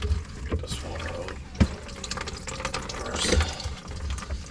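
Water drains and gurgles out of a leaking kitchen sink during a plumbing repair, a steady wet rushing and trickling with occasional knocks of handled parts, while someone talks over it.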